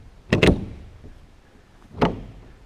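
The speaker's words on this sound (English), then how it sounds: "We'll open up the door." A renovated trailer's door is opened, a sharp double metallic clunk of the latch and handle followed a moment later by another single knock, close and fairly loud in a quiet outdoor setting.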